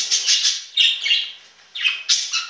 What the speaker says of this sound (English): We've got 8 budgies right now.